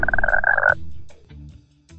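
A single loud, buzzing frog croak from the game Paw Patrol: Tracker's Jungle Rescue lasts under a second, followed by quiet, faint electronic blips.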